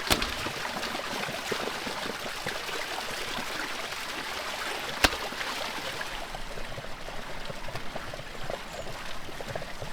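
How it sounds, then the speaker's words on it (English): Water pours and trickles steadily at an outdoor well as beef tongues are rinsed, a continuous splashing stream with one sharp knock partway through, close and unaccompanied by voices. "I'm giving the tongues a thorough rinse at the well"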